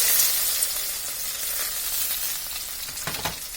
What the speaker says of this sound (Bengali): হালকা একটু ভেজে নেব পেঁয়াজের সাথে।